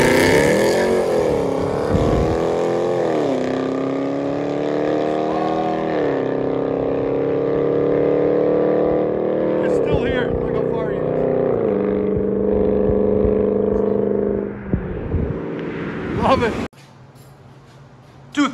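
Deep, loud exhaust note from a 2012 Dodge Ram 1500 with a 5.7-liter Hemi V8, aftermarket exhaust and factory converters, revving and holding a steady drone up close before cutting off abruptly near the end.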